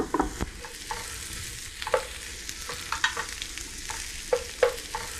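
Vegan ham sears in a pan over medium-high heat, a soft sizzle running beneath repeated clacks and scrapes of stirring, close and fairly quiet, with no talking.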